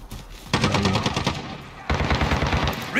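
An FAL rifle fires in Call of Duty Modern Warfare, two close, loud bursts of rapid shots separated by a brief pause, with a voice speaking over the gunfire.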